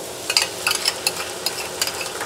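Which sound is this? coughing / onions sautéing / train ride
onions sautéing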